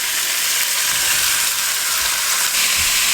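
Beef frying in olive oil in a pan, a constant bright sizzle close by, with a few soft low bumps from the meat shifting, and no voices.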